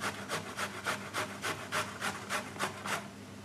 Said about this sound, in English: I tend to turn my carrots so I don't get that sort of floppy bit that you can't grate.